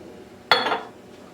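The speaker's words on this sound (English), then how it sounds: "Give it a little stir." A spoon stirring cabbage, potato and ham soup in a pot: one sharp metallic clink against the pot, close and clear, followed by a short scraping trail.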